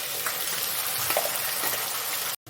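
Ground spice paste and onions frying in hot oil for a mourola fish tel-jhal, heard as a soft, continuous sizzle up close that cuts off abruptly near the end.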